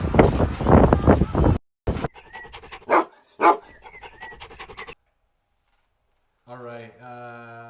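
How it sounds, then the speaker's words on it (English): A couple of dogs, scratching and rustling at a delivery bag, then a few short barks and sniffs with pauses, ending in a drawn-out whine or howl. "those are a couple of very good dogs"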